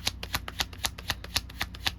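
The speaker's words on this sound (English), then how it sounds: "Let me shuffle right quick, because maybe I done said a little too much, child." A tarot card deck being shuffled by hand in quick, regular riffling strokes, about eight crisp snaps in a steady rhythm, close and alone without talk.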